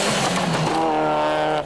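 A Ford Fiesta Super 2000 rally car races past during a New Zealand rally stage, its loud engine note rising and then settling into a steady high-pitched drone as it moves away.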